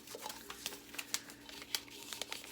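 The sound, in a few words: tearing paper label off an old tomato can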